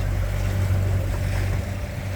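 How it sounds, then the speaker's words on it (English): Steady low rumble of a sailboat under way with the motor running, broad wind and water noise; sails flog in the wind, blending into the constant wash, no voices. "You can hear the sails in the background flogging around."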